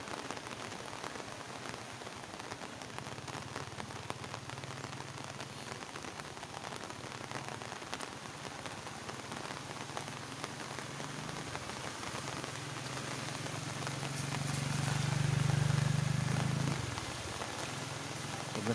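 Steady heavy rain pours during a typhoon flood in a Palawan village, a dense continuous hiss close by with a low rumble swelling near the end, no talking.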